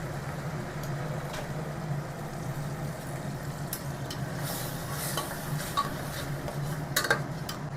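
Coriander and mint paste for chicken biryani fries in a pan with fried onions, giving a steady, even sizzle throughout, with a few soft stirring scrapes and light clicks from the pan.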